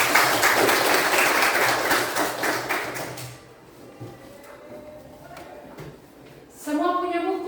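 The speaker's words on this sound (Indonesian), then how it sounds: "tepuk tangan lagi." Classroom applause fills the first three seconds as a dense, loud burst of many hands clapping, then fades into quieter room sounds and a few taps before a voice speaks.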